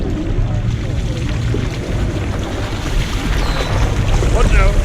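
Torqeedo 1100-watt electric outboard pushing a kayak at full speed on open water, a steady whir under continuous rushing water and wind noise, close to the mic, with brief voices in the background.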